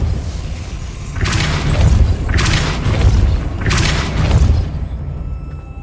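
Three loud, evenly spaced blasts of the Depulso spell in Hogwarts Legacy, each a bursting whoosh with a deep thump underneath, about a second apart, then quiet.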